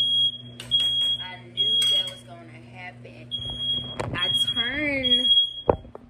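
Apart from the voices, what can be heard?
smoke alarm going off while cooking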